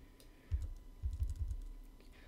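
Computer keyboard cursor keys being pressed while adjusting a GPU undervolting slider: a few quiet, close clicks in a short burst, one tap followed by a quick run of several, over faint background hiss.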